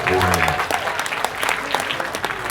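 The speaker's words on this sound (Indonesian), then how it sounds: "Tepuk tangan untuk UNES." At a wayang kulit shadow-puppet performance on a Semarang university campus, an audience breaks into loud applause, many hands clapping briskly over a lingering musical tone at the start.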